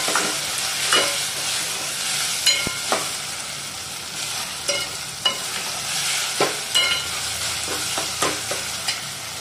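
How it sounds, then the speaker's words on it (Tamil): Tomatoes sautéing in a pan while being stirred, a steady broadband sizzle with repeated clicks and scrapes of the spoon against the pan, close and moderately loud with no talking. "தக்காளி நல்லா வதங்கணும்."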